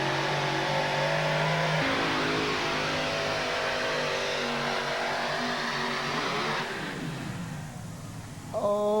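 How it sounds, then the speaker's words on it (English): An engine on a pulling tractor named Blazing Bison roars at very high RPM under power at a 1987 USHRA/NTPA tractor pull in Indianapolis. The loud, sustained howl climbs in pitch, then winds down as the tractor stops moving, with a brief sharp noise at the end. "the motors came up, the RPM came up real high, the tractor quit moving, it was under power when it happened"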